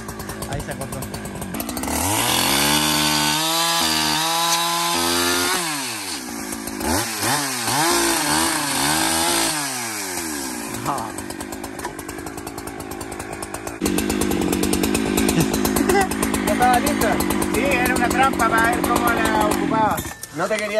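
A chainsaw roars while cutting wood and throwing splinters, the engine rising and dipping through cuts, then holding a steady loud whine near the end, close by and continuous.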